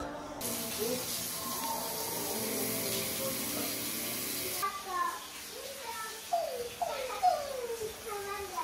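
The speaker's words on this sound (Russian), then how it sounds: "хотим сейчас сразу набрать воду" Water runs steadily from a tap in a holiday house in Gangwon Province, South Korea, a continuous hissing rush that stops abruptly midway, followed by children talking.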